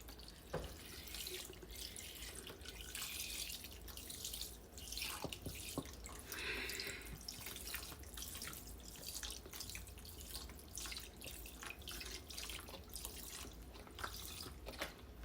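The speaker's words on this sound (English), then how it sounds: "I'm going to add some broth." Broth being poured into a stew pot of beef, peppers and onions, a faint steady liquid trickle and splash running continuously, quiet and close.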